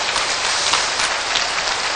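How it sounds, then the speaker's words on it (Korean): A church congregation claps together in sustained applause during a worship service, a dense, steady roar of many hands filling the room with no pauses. "let's give the Lord a great round of applause"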